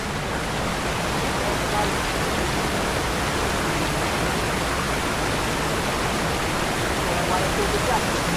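Water rushing from a natural spring beside a river, a steady dense broadband flow at close range, with faint voices in the background.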